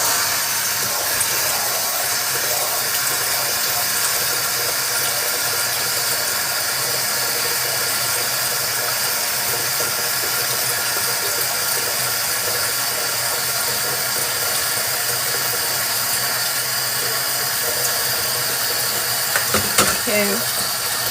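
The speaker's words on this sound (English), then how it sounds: "Let me wash this spoon." Water from a kitchen tap rushes steadily and loudly while a spoon is washed, a continuous broadband hiss that lasts throughout, ending with a few brief clinks near the end.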